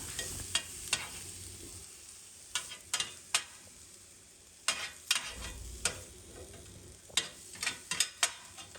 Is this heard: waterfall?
no